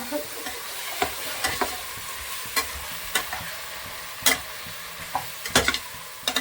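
Quail curry with ground tomato is stirred in a pan: a spoon scrapes and clicks at irregular intervals over a soft, steady sizzle, close and fairly quiet, with no talking.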